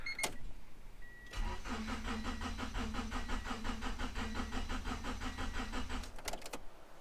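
A 1990 Honda Accord engine cranks steadily for about five seconds with a rhythmic, laboring starter chug and never catches, loud and close, followed by a short click and silence.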